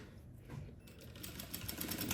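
A sewing machine stitches slippery, fluid kimono fabric in a steady, rapid mechanical rhythm that runs the whole time at moderate loudness, with no voices.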